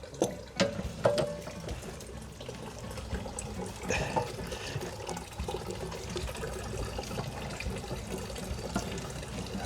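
Water drains from an RV's tank plug, loosened with a 27mm socket during winterizing, in a steady splashing, gurgling flow with a few early clanks.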